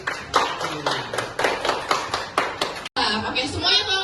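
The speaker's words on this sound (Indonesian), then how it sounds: "Teman-teman bisa berikan aplaus untuk teman kita yang baru saja sampai" An audience claps steadily in a hall at a Quran recitation contest, with a loud continuous patter of hands and voices and chatter mixed in, briefly cut off before the applause resumes.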